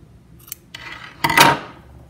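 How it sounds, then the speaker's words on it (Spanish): Scissors snipping through yarn strands for a crocheted cord with pompoms, a few quick close cuts ending in one louder, longer snip, with no voices. "Cortamos aquí abajo. Todas las hebritas."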